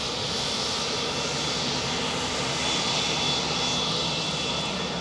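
Jet engines of the WhiteKnightTwo aircraft at Edwards Air Force Base, a steady, loud broadband roar that holds without a break throughout.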